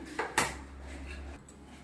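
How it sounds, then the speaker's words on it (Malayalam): A couple of sharp knife strikes chopping hard jackfruit seeds against a board, close and crisp, followed by a soft scraping thud. "നല്ല ചെറുതായിട്ട് ഞാൻ അരിയാണ്"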